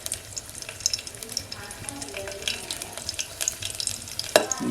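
Garlic frying in hot oil for a tempering in a pot on a wood-fired stove, a close crackling sizzle with irregular spatters and a few utensil taps, ending in a brief louder burst.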